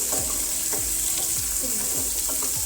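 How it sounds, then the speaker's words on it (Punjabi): Onions frying in a pan for Amritsari-style paneer bhurji, a steady close hiss of sizzling oil with repeated scraping stirs of a spoon every half second or so. "3 ਤੋਂ 4 ਮਿੰਟ ਗੋਲਡ ਬਰਾਊਨ ਬਰਾਊਨ ਹੋਣ ਦਵਾਂਗੇ ਪਿਆਜ਼ਾਂ ਨੂੰ"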